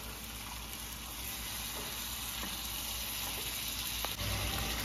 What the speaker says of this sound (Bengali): আমি হাফ কাপ মতো জল দিয়ে দেবো।